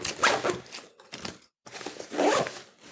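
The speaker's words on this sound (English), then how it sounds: "Let's see if this book will fit in and zip it up." A zipper is pulled closed around a bag stuffed full, with a book added inside. The zip comes in two bursts of quick rasping strokes, the second after a short pause. It is close to the mic and fairly loud, and nobody talks over it.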